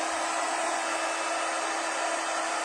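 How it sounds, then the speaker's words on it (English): Heat embossing tool blowing hot air over stamped vellum while making a circle easel card, a steady, loud, close whooshing fan roar holding unchanged and alone throughout. "a little bit noise now while I do the heat embossing."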